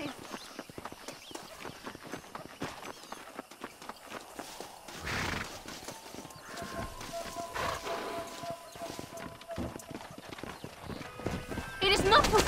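Horses pulling a stagecoach in Red Dead Redemption, their hooves clip-clopping in a steady rhythm over wheel and road noise, with a horse whinny and characters talking partway through.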